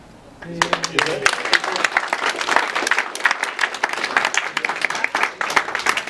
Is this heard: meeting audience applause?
yes